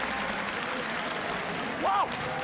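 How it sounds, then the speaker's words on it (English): Audience applause greets esports team Spandau Inferno at an Arena of Valor tournament at Gamescom 2017, a dense, even wash of clapping from a large crowd that continues under a whoop and chatter. "Round of applause for Spandau Inferno"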